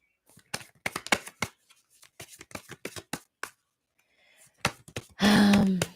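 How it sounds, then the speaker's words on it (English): Tarot cards are handled in a run of soft, separate riffling flicks and taps, close and fairly quiet. A longer, louder rustling shuffle comes near the end. "shuffling now so that a card may fall on the energy that we can embody"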